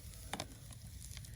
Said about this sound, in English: There we go, that's the sizzle we want.